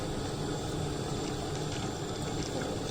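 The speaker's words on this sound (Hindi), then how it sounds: "इसके अंदर अपना बॉयल आना शुरू हो गया, उबाला आना शुरू हो गया।" Sugar syrup boiling in a pot while cooking panjeeri gives a steady, dense bubbling and hiss, close and continuous without pause and with no voices.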